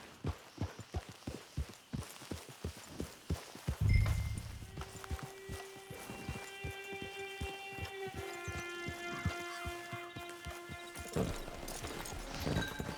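Horse hooves clip-clopping at a steady riding gait in Red Dead Redemption 2, a regular rhythm of close hoofbeats with a thud partway through and sustained tonal game music layered underneath.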